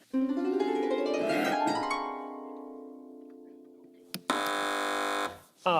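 On the TV quiz show Have I Got News for You, a rising electronic tone swells into a sustained harsh buzz, then after a brief break a loud flat buzzer blares for about a second.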